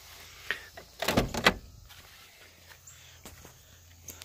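A door on a 1992 GMC Sonoma GT pickup, a door that is hard to close, shuts with a loud, close thud and rattle. A few faint clicks follow in an otherwise quiet space, with no talking.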